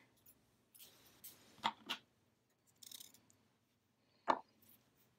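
Scissors snip through crochet yarn in a few quick, crisp cuts close by, with soft handling rustles between the snips in an otherwise quiet room.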